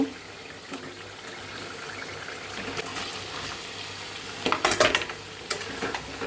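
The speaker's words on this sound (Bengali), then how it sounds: "তারপর আমি এটা এখন এখানে ঢেলে দিব" Liquid poured into a pan of cooking beef liver, a quiet low trickle that swells into a short splashy burst near the end, with no voices.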